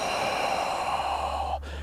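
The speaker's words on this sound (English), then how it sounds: "we can hear our breath, but we hear it coming out of the mouth and we hear it coming into the nose" A single long, deep breath, drawn in through the nose and let out through the mouth as an inner-ear breathing exercise for calming anxiety. It is close and steady and ends abruptly, with no talking.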